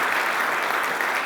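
A round of applause for staff after a keynote, a thick, steady wash of many hands clapping at full volume throughout the brief moment.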